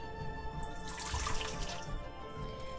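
Water poured into samosa dough, a cup at a time with ghee already in: a close, continuous splashing and trickling that swells in the middle and fades toward the end, with no talking.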